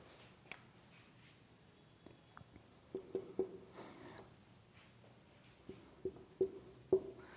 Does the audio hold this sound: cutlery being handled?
no